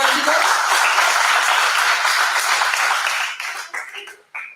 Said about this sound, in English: Can we have a huge round of applause for Anshika?